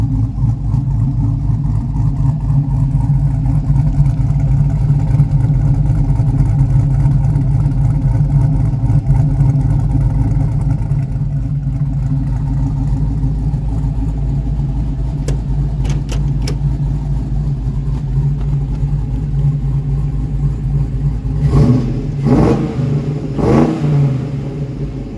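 A 1972 Chevrolet C10 pickup with ceramic-coated headers and 2.5-inch Vorla mufflers rumbles steadily and loudly up close, then blips the throttle a few times near the end.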